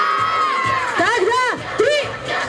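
A crowd of children at a festive party shout and cheer loudly together in long, rising and falling cries, close and sustained, with an adult voice mixed in.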